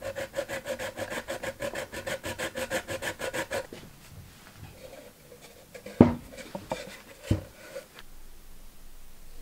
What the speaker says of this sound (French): Maintenant, les rainures pour renforcer les angles.